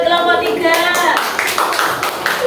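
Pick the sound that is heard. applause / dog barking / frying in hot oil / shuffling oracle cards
applause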